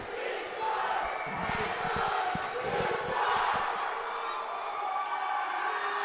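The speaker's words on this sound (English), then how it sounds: "There's your favorite cheer again." A hockey arena crowd at a college game roars in sustained, chanting cheers, a broad wash of many voices with rhythmic pulses, loud and continuous throughout.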